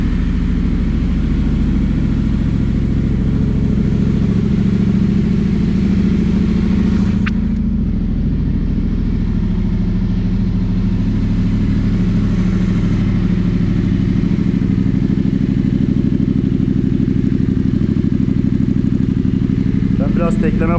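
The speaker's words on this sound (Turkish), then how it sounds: "Rölantimizi de bu susturucusu halinde yapalım." A Yamaha Tenere 700 motorcycle with an aftermarket GPR exhaust idles steadily up close, a deep, throaty rumble that holds an even, continuous pitch throughout.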